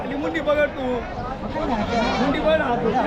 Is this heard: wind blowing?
no